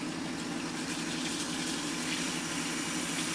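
Tap water runs in a steady, even rush while bleach is rinsed out of a lace front wig, a close, unbroken wash of noise with no voices.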